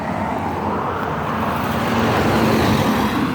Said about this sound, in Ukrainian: Мотоцикл їде